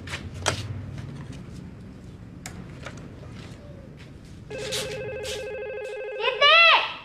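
A household telephone starts ringing with a trilling electronic tone after some background clatter and movement, loud and near near the end, with voices in the room.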